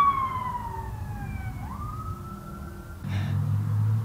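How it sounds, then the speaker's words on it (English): An emergency vehicle siren wails through a neighborhood, its falling and rising tone sweeping past, then giving way to a low engine rumble close by. "There's our daily siren coming through."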